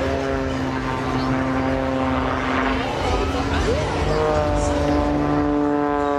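Propeller aerobatic aircraft of the Blades display team performing at a Scottish airshow, a steady droning engine hum running continuously with a rising, shifting tone partway through, loud and fairly close.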